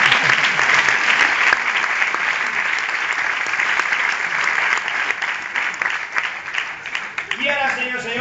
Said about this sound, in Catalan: un aplaudiment per al tècnic que està allà